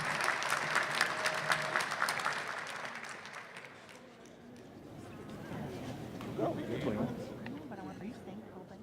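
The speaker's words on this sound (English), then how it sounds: "A round of applause again for our challengers." An audience at a Lucas County commissioners candidates debate applauds loudly for a few seconds, then the clapping fades into crowd murmur and talking voices.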